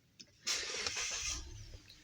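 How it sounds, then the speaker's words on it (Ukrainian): A Mazda CX-9 2.5 turbo petrol engine cranks and catches, then settles into a steady idle, heard up close with a brief starter whir before the running engine holds. "прогріваємо двигун до робочої температури, запускаємо двигун"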